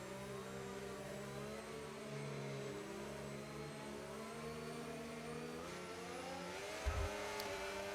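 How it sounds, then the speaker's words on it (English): Mercedes racing car engine in a racing video game at the Austria circuit, a sustained high whine rising and falling through gear changes, steady and close, with a brief thump near the end. "now we have to go quiet because the Mercedes engine needs to do the talking"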